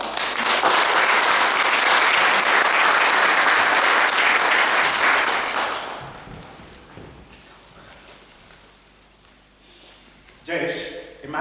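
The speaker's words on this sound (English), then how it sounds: "Please give a big round of applause to Jayesh De Silva." A loud burst of applause from a crowd fills the first half, then fades out, leaving quiet room noise and a brief sound near the end.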